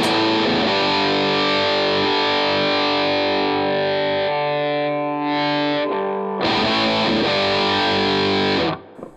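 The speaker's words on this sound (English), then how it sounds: "This is the Behringer Ultra Distortion." Electric guitar played through a Behringer Ultra Distortion pedal into a Vox AC30 amp on its normal channel, giving sustained, heavily distorted chords that ring loud and close, with a brief dip midway and a sudden cutoff at the end.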